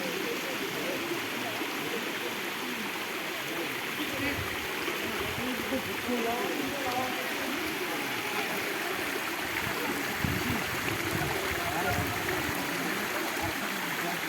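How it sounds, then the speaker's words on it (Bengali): A stream flows steadily near the living root bridge at Cherrapunji in Meghalaya, a continuous rushing wash of water with a faint voice now and then underneath. "এখন দেখতে পাচ্ছ জলের আওয়াজ শুনতে পাচ্ছ তোমরা"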